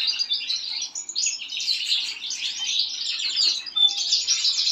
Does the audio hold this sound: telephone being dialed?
no